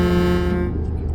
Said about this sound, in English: We need to honk on the cops here